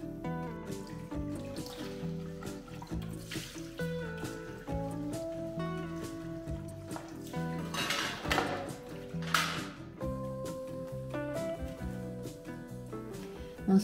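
DeLonghi Dinamica coffee machine tray, water reservoir and grounds container being removed, emptied and cleaned: near, continuous clattering and knocking of plastic parts with tonal ringing clinks and occasional rattles, no talk.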